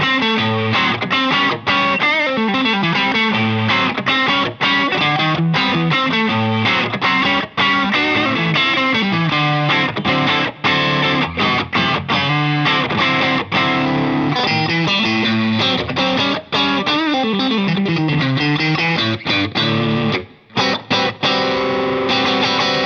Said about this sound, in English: oh, that's a nice and throaty strat sound.